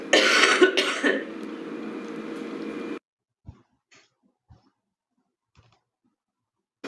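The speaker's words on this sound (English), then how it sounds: "you may feel the need to cough and clear." A few harsh coughs and throat-clearing noises close up during post-surgery breathing exercises, then quiet broken only by scattered small clicks.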